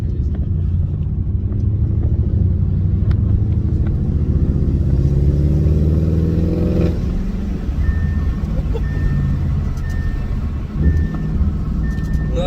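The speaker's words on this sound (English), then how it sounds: "My car turbos are loud now." An Audi S6 with a CTS intake system accelerates, its engine and turbos droning up in a rising pitch sweep that peaks and falls away, followed by a lower road rumble and a faint high whine.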